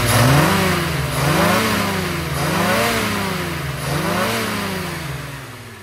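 A carburetted V8 engine, freshly tuned after running lean around 4,000 to 5,000 RPM, revs repeatedly in rising and falling waves, loud and close with a deep, steady rumble and no talking.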